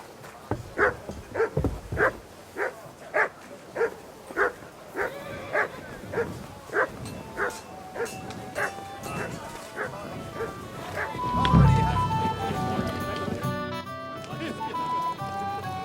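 A dog in the medieval video game Kingdom Come Deliverance 2 barks in a steady run of evenly spaced woofs for about ten seconds, followed by louder game noise, with voices present.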